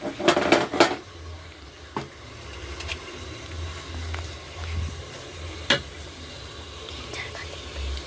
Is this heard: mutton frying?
yes